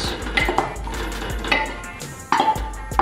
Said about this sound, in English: adding the onions.